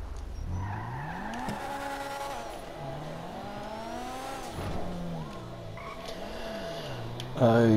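A Ferrari in Grand Theft Auto V drives along with a close engine hum whose pitch rises and falls as the car speeds up and shifts gears, ending in a short burst of tire noise, while someone talks over it.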